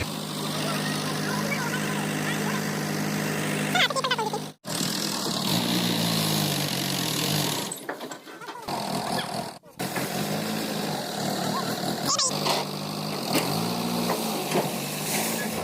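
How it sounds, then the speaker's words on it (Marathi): A farm tractor hauling a trolley loaded with harvested soybeans rolls in, its engine droning loudly and continuously, swelling and dipping with a couple of brief dropouts. "आता आला आहे तिसरा ट्रॅक्टर"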